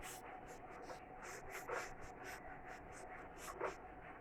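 Chalk being rubbed off a lecture-room board: quiet, scratchy back-and-forth strokes in a steady rhythm, faint and close, with no talking.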